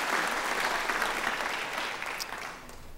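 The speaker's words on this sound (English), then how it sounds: "Let's give Roger a round of applause for the great work they're doing in Louisiana" Members of the Louisiana Legislature applaud during the opening of a regular session, a dense wash of many hands clapping in a large chamber, steady and moderately loud before thinning slightly at the end.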